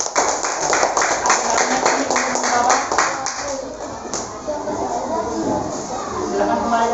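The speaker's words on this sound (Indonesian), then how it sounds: "silakan tepuk tangan untuk kelompok 4" A classroom claps for a student group, a burst of many hands clapping fast and dense at first, then thinning into scattered claps amid murmuring voices and shuffling.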